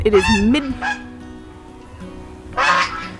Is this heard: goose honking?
yes